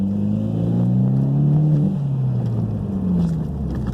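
Mitsubishi Evo X turbo engine heard from inside, rising and falling through revs with a loud droning tone and a brief whooshing release from the turbo blow-off valve partway through.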